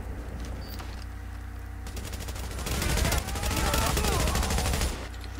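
Auto rifle fire in The Division comes in loud sustained bursts of rapid shots, building from a quieter stretch into dense fire mid-clip, then dropping off near the end.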